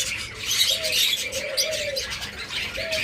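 Caged pet birds such as lovebirds, cockatiels and budgerigars chirp and tweet busily at close range, with a few soft coo-like calls standing out above the continuous chatter.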